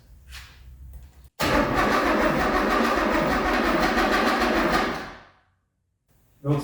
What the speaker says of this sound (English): I'm going to crank the engine over until we can build oil pressure.